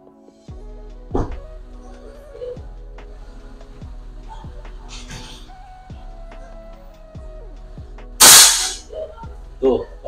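Air rifle shots from a custom 'RD Super Luxury' pump rifle fire in a series of sharp, loud cracks with clacking between them, one especially strong shot near the end, while a speaker talks between the shots.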